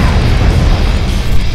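Weapon shot in MechWarrior Online, a heavy, dense booming blast with a loud low-end roar filling the short moment, no talking.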